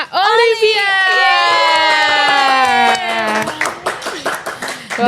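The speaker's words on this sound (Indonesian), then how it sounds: "Agak lama tepuk tangannya" An audience welcomes the esports program manager at American Corner Pontianak on a podcast set. A long, sustained vocal cheer rings out first, then gives way to a burst of scattered clapping and crowd noise, loud and close.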